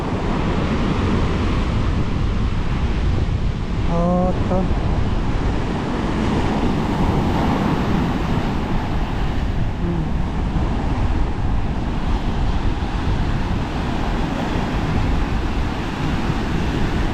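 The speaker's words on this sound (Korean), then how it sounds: "이야 파도 좋다" Constant roar of surf breaking on Cam Ranh Beach in Vietnam, broad and steady, with gusty wind noise and a brief murmured voice early on.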